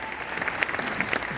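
Audience applause at a school band concert after a duet, steady dense clapping throughout the short stretch.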